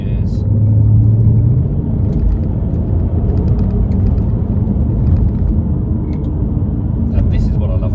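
An Audi TT V6 engine rumbles as the car is driven through bends and dropped down a couple of gears, giving a loud, steady low drone with a deep swell early on and road noise under it.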